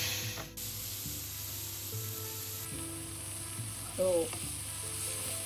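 Onions and chillies frying in a little oil in a home kitchen, a steady close sizzle with faint clinks and a brief louder scrape of stirring near the end, and a single short spoken word.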